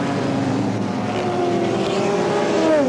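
Race cars from a mid-1980s Australian sports sedan race, including a Ford Escort silhouette car with a 2-litre Cosworth BDG engine, sweep onto the main straight with a loud, continuous engine roar and a rising whine as one passes close.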